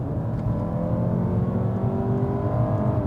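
Engine of a 2024 Mazda 3 with the 2.5 liter engine under acceleration, a steady loud low drone and rising hum heard from inside the car, with no talk.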